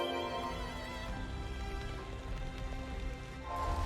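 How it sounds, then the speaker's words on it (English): Rain falls steadily in the video game Xenoblade Chronicles 3, a soft continuous patter on surfaces with quiet music underneath and no talking. "Oh, Rain!"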